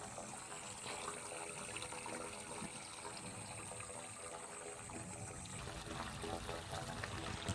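Water streams along a channel in the open Konkan countryside, a steady broadband rush and trickle that runs throughout at an even, moderate level without a break.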